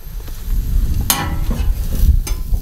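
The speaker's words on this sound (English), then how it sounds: "We got some burgers on the grill" Burgers sizzle on an outdoor grill at a Labor Day cookout, a steady close crackle with a few sharp scrapes from a spatula, no talking.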